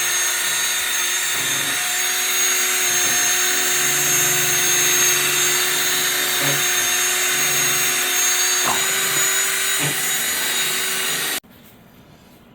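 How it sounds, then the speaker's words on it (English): Epoxy and hardener are mixed thoroughly for a farmhouse epoxy project, giving a steady, loud whirring and rubbing churn. It runs without a break for about eleven seconds, then cuts off abruptly, leaving only faint room tone. "This is a really important process to mix it really, really good with the hardener."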